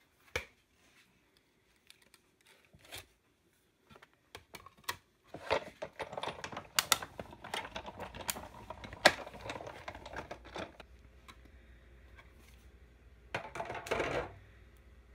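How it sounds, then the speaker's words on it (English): A die-cutting machine runs a cover plate through: faint sparse clicks give way to a dense patch of rattling, ratcheting clatter, then quieter mechanical ticks and a final burst of grinding. "then you want to run that through with your cutting machine"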